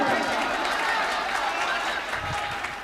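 Audience applause at a Hindi-Urdu comedy poetry recital, a dense, steady wash of clapping with crowd murmur, fairly loud throughout and easing slightly near the end.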